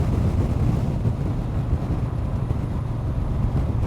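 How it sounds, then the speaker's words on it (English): Heavy, continuous wind buffeting the microphone on the Isle of Sheppey, a loud low roar that rumbles without pause. "Oh my god, it is windy over here."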